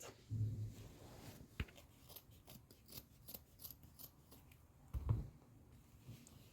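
Scissors snip through fabric being cut for a sofa cover, a string of faint close crisp cuts and rustles spread across the clip, with a couple of louder soft thumps of cloth being handled.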